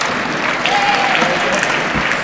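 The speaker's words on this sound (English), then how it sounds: "A round of applause for her one more time." Audience applause at the official opening ceremony of an international UCLG training in Gambia, a steady continuous wash of clapping from a crowd filling the whole short stretch at moderate loudness.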